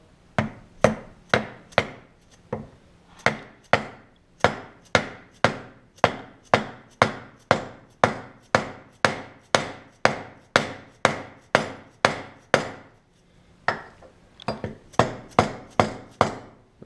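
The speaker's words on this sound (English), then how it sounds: "You want to use a larger socket to tap on the outer race." A dead blow hammer taps a large socket against the outer race of a Can-Am Bombardier DS650 front wheel bearing, giving a long, steady series of sharp, close knocks with a brief pause and no speech.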